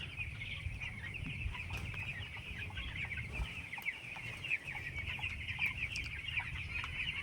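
Chickens cluck softly and continuously on a sand-floor poultry farm during the rainy season, a faint, steady flock murmur with occasional sharper calls and no talking.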